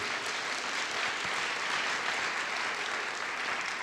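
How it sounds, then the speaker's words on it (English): An audience at a high school information night claps in a steady, continuous round of applause that stays even for the few seconds heard. "All right, round of applause for that."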